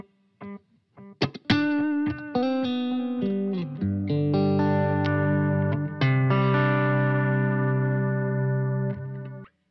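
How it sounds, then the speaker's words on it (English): Electric guitar runs through a warm bucket brigade analog delay, with notes and chords repeating in soft, slightly murky echoes, played alone and fairly close. "Next is the bucket brigade on the timeline."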